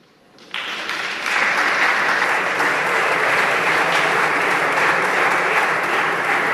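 Applause in a Spanish parliament chamber during a government question session starts abruptly after a moment of quiet and then holds as a dense, even roar of many clapping hands.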